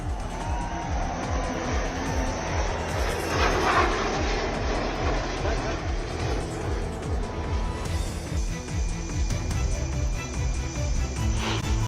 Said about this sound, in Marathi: नाशिकमधून झेपावलं स्वदेशी तेजस लढाऊ विमान